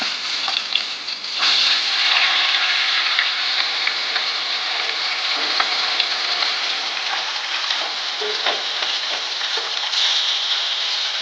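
Tilapia fish frying in oil in a pan in a village kitchen, a loud continuous crackling sizzle close up, with occasional sharper pops and faint scrapes, and no talk over it.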